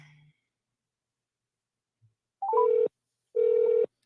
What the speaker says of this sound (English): Alejandro, let me call this woman and see if she can answer the phone